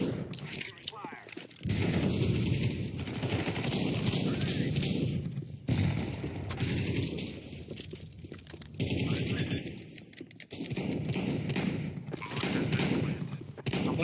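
Gunfire from the video game Counter-Strike 2 rattles in dense, loud bursts broken by short pauses, with voices talking over the shooting.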